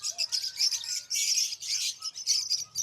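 Busy, high-pitched chirping and tweeting from many lovebirds at a pet market, continuous and overlapping, moderately loud with faint background bustle.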